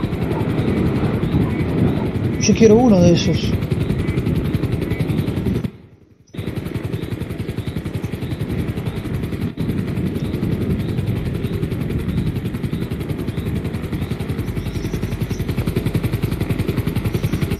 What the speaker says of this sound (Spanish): tiene un helicóptero